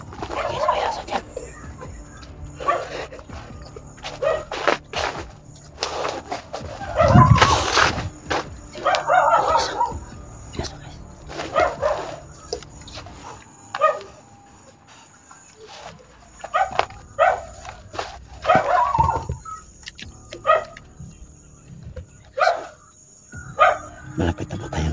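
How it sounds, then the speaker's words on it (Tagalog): A dog barks outdoors in irregular bursts, some loud and close, others fainter, separated by quieter stretches of background noise. "May aso dito guys"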